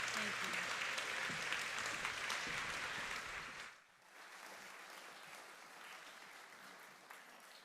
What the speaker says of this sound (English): Let's give them another round of applause for Jaeger and Reid